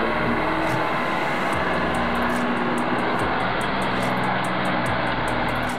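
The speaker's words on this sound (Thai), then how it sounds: "เสียงเครื่องยนต์ดังสนั่นลั่นป่า" A heavy truck engine roars loudly and steadily throughout, with a deep rumble and continuous rushing noise, close and unbroken, while driving through a swamp track.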